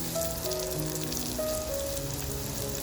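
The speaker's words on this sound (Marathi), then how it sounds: "त्याच्यानंतर जो कांदा कापून घेतलेला आहे तो कांदा टाकते" Chopped onion sizzling in a clay pot over a slow flame, a soft, steady crackling hiss like light rain, faint and even throughout with no talk.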